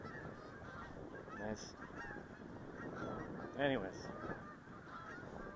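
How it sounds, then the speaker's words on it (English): Several geese honk outdoors, with a few distinct honks standing out clearly over quieter background noise while a person talks briefly. "Hey, look at all these geese"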